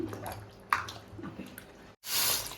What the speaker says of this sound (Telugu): దీనిలోనే మనం టమాటాలు చూడండి పచ్చిమిర్చి నీట్గా వాష్ చేసుకొని